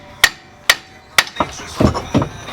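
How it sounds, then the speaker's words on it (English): A hammer strikes metal on a welded differential several times, sharp ringing clangs spaced about half a second apart, then duller, quicker knocks follow, close and loud. "When in doubt, get a hammer."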